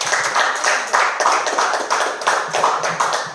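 A church congregation at a Spanish-language service claps in praise of the Lord, with loud, close, rhythmic handclaps in steady pulsing bursts throughout.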